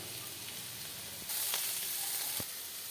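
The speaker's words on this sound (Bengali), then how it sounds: "সেদ্ধ করা ফুলকপিটা দিলাম দুটো কাঁচা লঙ্কা চেরা" Boiled cauliflower and split green chillies dropped into hot oil with five-spice and asafoetida, a soft steady sizzle that jumps louder midway as the vegetables hit the pan, with a brief clack, no talk.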